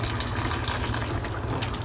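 Steady gushing of water poured into a pot of simmering mutton curry, a continuous broadband rush with a low rumble, close and fairly loud, no voices.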